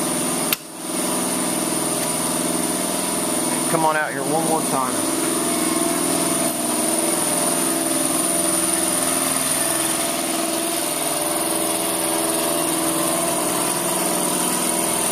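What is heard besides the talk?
water cannon system building air pressure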